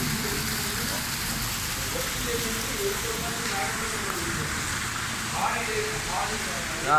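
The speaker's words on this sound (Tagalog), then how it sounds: "Too much raining." Heavy rain hisses steadily across hard surfaces in Dubai, with a low engine hum beneath and a few brief sounds rising near the end.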